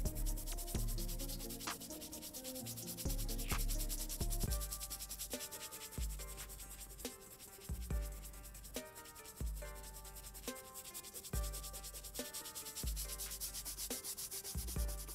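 Brush scrubbing dirty Vans shoes clean, rapid rhythmic back-and-forth bristle strokes in bursts with short pauses, close and steady, with no talking.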